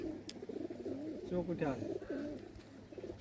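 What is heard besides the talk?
Rajshahi local Giribaj and Pakistani pigeons cooing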